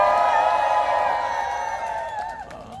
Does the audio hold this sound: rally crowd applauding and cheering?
yes